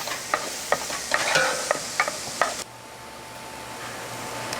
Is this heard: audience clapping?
no